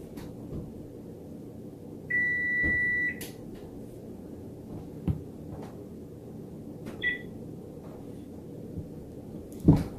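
Kitchen oven timer beeping in a quiet room, a couple of short electronic tones standing out over low background noise, with a few soft knocks around them.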